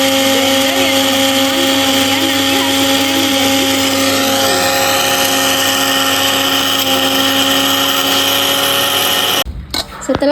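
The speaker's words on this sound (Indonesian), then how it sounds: "kita tutup dan kita blender ya" An electric blender grinds dried shrimp into powder, a loud steady whirring drone held for about nine seconds before the motor cuts off abruptly near the end.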